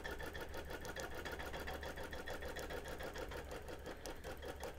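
A longarm quilting machine stitches binding onto fabric, a steady rapid mechanical chatter of the needle over a low motor hum that runs evenly throughout at a moderate distance.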